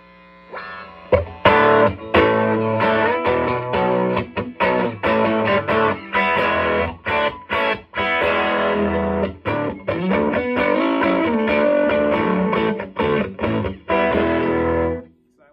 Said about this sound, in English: Let's go to the other channel, crank that all the way up without the effect on.